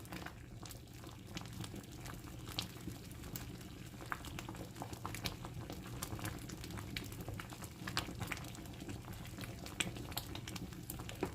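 Cranberry sauce bubbling at a steady boil in a pot, thick liquid popping and spluttering with low rumbling underneath, fairly quiet and close.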